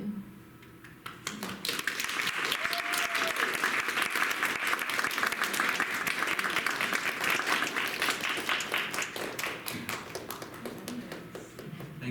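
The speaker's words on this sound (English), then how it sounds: "Let's give one more hand applause." Warm audience applause at a first-year MFA poetry reading, many hands clapping steadily and fairly close for around ten seconds, with a few voices before and after.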